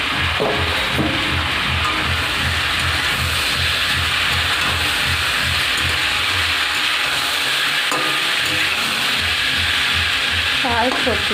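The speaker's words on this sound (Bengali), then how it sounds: "প্রায় সবজিটা হয়ে এসেছে, আর একটু ভাজবো, নাড়াচাড়া করে ভালো করে সাঁতলে নেব।" Vegetables frying in a pan, a loud, constant hiss and sizzle close up, with occasional stirring scrapes and faint voices beneath.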